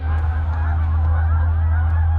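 Canada geese on an eastern Montana hunt honk loudly and close in a thick overlapping chorus, taking off together over a low rumbling background.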